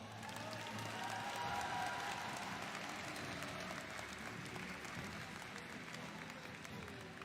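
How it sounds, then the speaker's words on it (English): A crowd applauds continuously at a watch party for an M5 World Championship esports lower bracket match, the dense clapping and cheering holding steady throughout under a loud room. "Can we give them a round of applause?"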